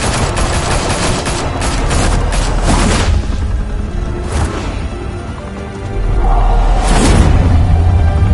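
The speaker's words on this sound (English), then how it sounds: "Open fire!" Gunfire breaks out in the Batman Telltale Series game: loud, rapid bursts of shots and heavy booms, an early volley that pauses and then surges again, close and dense, with no talk.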